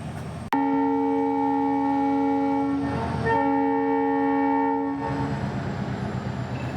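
A Pamban Express train rumbles past close by while its horn sounds in long, loud blasts with a brief pause between them.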